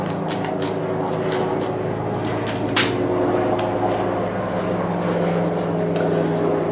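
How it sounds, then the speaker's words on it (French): A propeller airplane drones overhead outdoors, a steady loud engine hum that fills the whole stretch, with scattered light knocks or taps nearby and no speech. "C'est un avion, excusez-moi."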